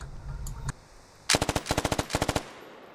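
Machine gun fire in the tactical shooter Squad on an Afghanistan map: after a brief muffled sound, a loud, close burst of about fourteen sharp, evenly spaced shots rattles out, then stops abruptly.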